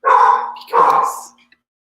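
A small white dog barks twice, sharp and close, each a loud, slightly drawn-out bark with a brief yelp trailing after.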